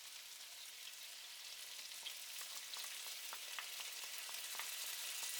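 Tomato paste sizzles in a pot with garlic and ginger for Japanese chicken curry, a steady soft crackle that is faint and continuous with light stirring scrapes, with no voices.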